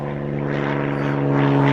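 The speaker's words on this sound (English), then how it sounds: "there's an aeroplane going overhead, a little light plane" Light propeller plane passes overhead, a loud, continuous droning engine hum with a steady low tone that swells slightly as it nears.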